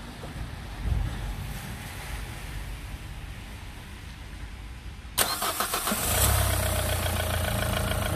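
Renault Clio 3 1.5 dCi diesel engine, just after alternator refitting, cranks and fires with a sudden loud onset midway, then settles into a steady broadband idle close by, preceded by quiet background rumble.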